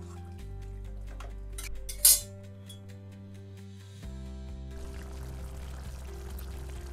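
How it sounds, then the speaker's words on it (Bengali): Bowl-rinse water is poured into a pan of sautéed spiced vegetables for a vegetarian curry, making a short, loud splashing gush midway through, over steady background music. "কষানো হয়ে গেছে, এবার তাতে অল্প বাটি ধোয়া জলটা ঢেলে দেবো, ফুটিয়ে নিতে হবে।"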